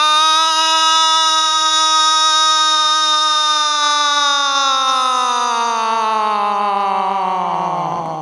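At a comedy performance during a festival, a performer vocally mimics another siren: a loud, sustained, buzzy tone that drifts slowly downward in pitch over about eight seconds before dropping off at the end.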